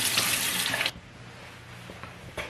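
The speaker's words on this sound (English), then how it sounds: "So then I'm just gonna rinse my face" Tap water running into a sink while a face is rinsed: a close, steady splashing rush that stops abruptly after about a second, then quiet with faint drips and a short splash at the end.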